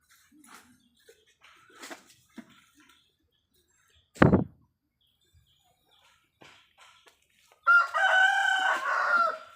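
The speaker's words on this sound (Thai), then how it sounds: "ไล่ไก่ชนน้องไก่เข้าไม่ได้นะคะ" A fighting rooster crows near the end in a loud, ragged call lasting about two seconds, after a sharp single cluck midway; scattered faint clucks and small noises fill the quiet stretches before it.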